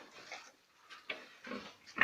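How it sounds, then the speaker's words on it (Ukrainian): Pigs grunting in short bursts with pauses between them, snorting and squealing close by, and a sharper squeal right at the end. "будуть на екрані даного відео всякі свинки"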